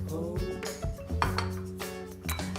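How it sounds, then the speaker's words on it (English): A utensil stirs dry carrot cake ingredients of self-rising flour, baking soda, salt and sugar in a bowl, producing close, irregular clinks and scrapes against the bowl with no talking. "I'm putting in the dry ingredients first, giving it a stir"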